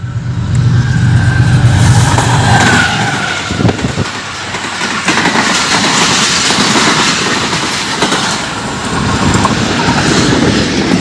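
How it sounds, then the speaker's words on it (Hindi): A train rolls past a railway crossing, loud and close, a continuous heavy rumble with rattling clatter of wheels and cars that barely changes in level throughout. "रास्ते में रुक गए हैं, ट्रेन आ रही है, यहाँ से हमने लाइन क्रॉस करनी है।"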